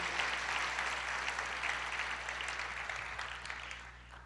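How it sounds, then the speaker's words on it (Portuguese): Steady applause from a church congregation during a worship service, a dense wash of clapping that holds evenly, then thins slightly toward the end over a low hum. "Você pode aplaudir ao Senhor por isso"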